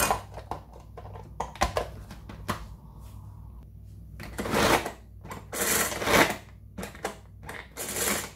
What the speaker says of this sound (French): je vais mixer mon oignon